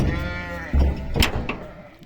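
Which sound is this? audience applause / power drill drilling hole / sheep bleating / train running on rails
sheep bleating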